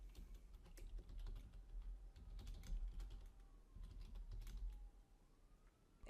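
Notes being typed on a computer keyboard come through as quick, irregular key clicks, faint and close, in a quiet room with a distant siren wailing softly underneath.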